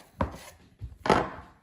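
Two knife chops through pizza dough on a cutting board, sharp close thuds about a second apart, the second heavier and longer, with quiet gaps between.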